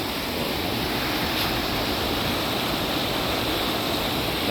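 A loud, constant rush of a strong lake current fills the scene, a steady broadband roar of flowing water without pauses, close by.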